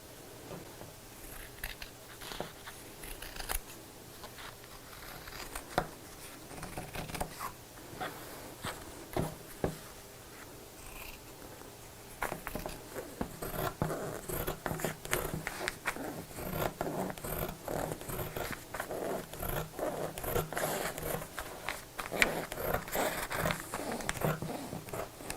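Scissors snip through fabric pieces for a Christmas stocking, a steady run of crisp cutting crunches and rustles that grows busier and denser in the second half, close up and without talk.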